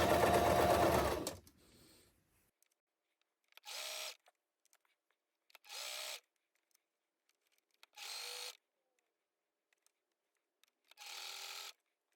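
A sewing machine stitches fabric pieces for a patchwork Christmas bow: one long close whirring run, then four short bursts separated by quiet pauses.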